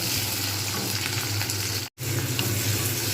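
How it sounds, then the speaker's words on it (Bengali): Onions and tomatoes fry in a hot pan with a loud, continuous sizzle and stirring scrapes, broken by a brief moment of silence partway through. "এর মধ্যে আমি পেঁয়াজ আর টমেটো দিয়ে দেবো ততক্ষণ পর্যন্ত না লাল হবে ততক্ষণ পর্যন্ত আমি সেগুলো ভাজতেই থাকবো"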